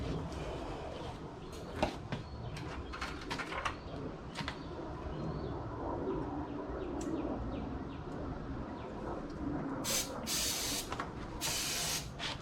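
Starting fluid sprayed into a Corvair engine: short, bright hissing spray bursts come near the end, over steady outdoor background noise with faint bird chirps.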